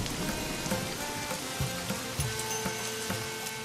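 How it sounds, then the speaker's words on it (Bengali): Steady rain falls in a dense, even hiss, with scattered droplets tapping on a surface nearby. "আকাশ থেকে বৃষ্টি নেমে এলো।"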